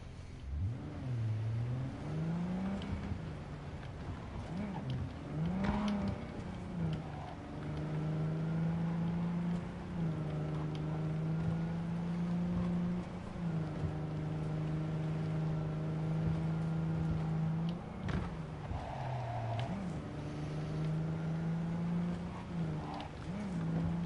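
A car engine in the video game Cyberpunk revs and surges while driving, its pitch rising and falling through gear changes and then holding a steady drone, loud and continuous throughout.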